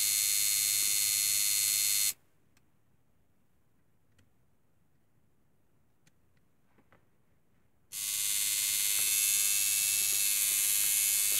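A homemade tattoo machine powered by a 0.5 amp AC adaptor buzzes loudly and steadily, cutting out for several seconds of near silence with faint ticks before the buzzing starts up again.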